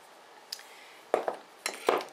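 A knife scraping and pressing garlic with salt into a paste on a cutting board, a few separate metallic scrapes and taps in uneven bursts. Close and moderately loud, with no voices.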